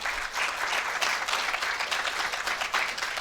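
A conference audience at a disabled teachers' union gathering applauds, sustained crowd clapping at moderate volume with pulsing bursts and no talk over it.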